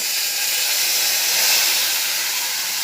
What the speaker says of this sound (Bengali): এইবার আমি দিয়ে দিচ্ছি ফোড়নে গোটা গরম মশলা, তেজপাতা আর গোটা জিরে দিয়ে একটু নেড়ে